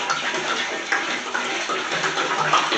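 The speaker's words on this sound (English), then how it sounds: "We're going to add the water." Water pours continuously into the fermenter of a Pinot Grigio winemaking kit, a close, steady splashing gurgle with small irregular bursts, with no talking.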